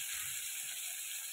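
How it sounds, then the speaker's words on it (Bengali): Vegetables frying in a pan give off a dense, steady hiss of sizzling that stays close and even throughout, with faint low stirring underneath. "সবজিগুলো একটু ভাজা করে নিই।"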